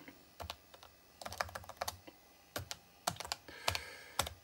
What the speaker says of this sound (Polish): mam po prostu problemy z tą klawiaturą, która jest nie dość, że francuska, to jeszcze z układem polskim klawiatury